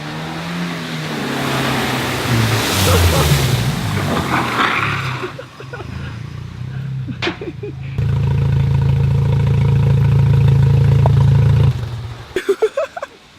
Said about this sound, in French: Du coup Damien, il va aller à fond, il va rouler.